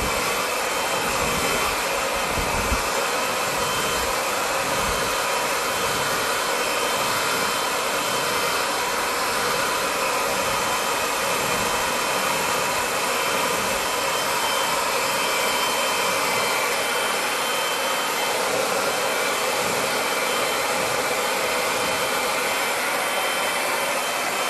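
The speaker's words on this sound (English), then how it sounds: "I'm going to dry the fringe." A hair dryer blows steadily and loudly at close range while a fringe is dried on an above-shoulder cut, its airy roar constant throughout with no pauses.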